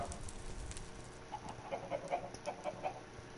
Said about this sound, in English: like the chicken that walked past